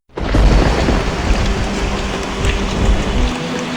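Pouring rain in a foggy hedge maze in a horror video game, a loud, steady, close downpour hiss with low rumbling underneath, starting suddenly and continuing unbroken, with no voices.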